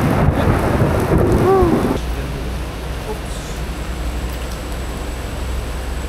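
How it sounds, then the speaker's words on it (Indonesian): Heavy rain pours with low thunder rumbling through it, louder and rougher for the first two seconds before settling into a steady, dense downpour during a night motorcycle tour on a forest road. "Kayaknya sih hujan udah bakal mengecil lagi."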